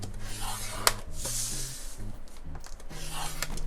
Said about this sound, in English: We want to score this at 1 inch on all 4 sides.